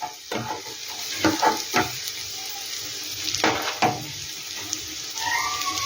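Homemade sauce poured into a pan of frying semolina balls, a soft hiss and sizzle with intermittent scraping and stirring knocks, fairly quiet and close.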